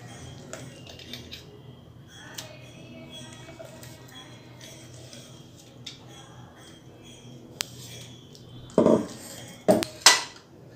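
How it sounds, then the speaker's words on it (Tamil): Ground moong dal batter is moved from a grinder into a bowl: quiet handling gives way to a few sharp clinks and scrapes of a utensil against metal near the end, with no talking. "இப்போது இது எல்லாத்தையுமே ஒரு பவுலில் நம்ம போட்டுக்கலாம்."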